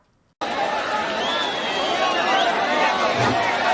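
A crowd roars and cheers as a six-tier human pyramid breaks the dahi handi pot at an Ichalkaranji festival, a dense, sustained wall of voices that starts abruptly and stays loud throughout.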